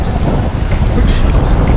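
Strong, cold wind roars over a sailing boat in rough water, a loud, continuous rumble that buffets the microphone up close.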